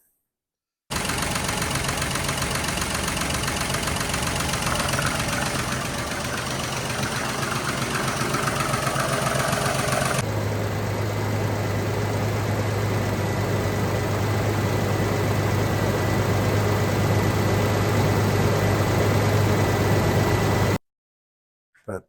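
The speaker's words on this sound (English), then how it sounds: "That valve adjustment definitely quietened up the Slant 6 big time." A Slant 6 engine idles steadily and close by, a continuous low rumble with a light ticking texture; partway through the tone shifts lower and smoother after a valve adjustment.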